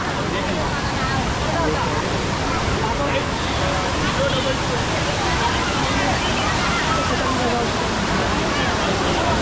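Zenith waterfall at Khopoli near Mumbai, a steady loud roar of falling water that fills the whole span, with voices of people faintly mixed in.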